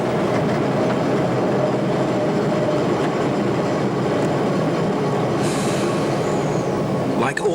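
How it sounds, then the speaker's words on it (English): The L44 battery locomotive, a London Underground traction unit, runs into Elm Park Station at an Upminster open day in 1990. It gives a loud, steady rumble of wheels on rails with a brief squeal near the end. "Running into Elm Park Station, it's easy to imagine the surprise of unsuspecting passengers as our curious train comes into view."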